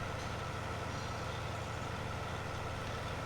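Tractor engines in a Farming Simulator 19 potato harvest on an Irish farm, a continuous low diesel drone running steadily and evenly, fairly quiet, with no speech over it.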